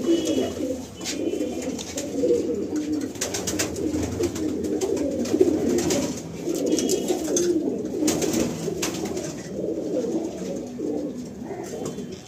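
Female pigeons in a loft coo in a steady, overlapping murmur that runs throughout, close and fairly loud, with scattered wing flutters and rustling mixed in.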